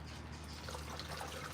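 A gallon of coolant pours from a jug into an engine's cooling system, a faint continuous trickling gurgle of liquid lasting the whole moment with no talking.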